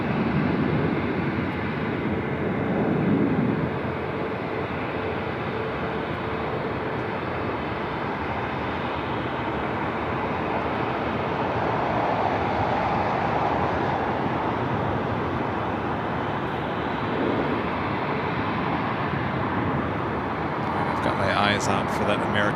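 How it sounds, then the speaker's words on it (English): An American Airlines Airbus A321 takes off on runway 25 right at LAX with a steady, broad engine roar that stays loud throughout, and a voice talks over it. "Out for that American A321. Which is now rolling down at 25 right."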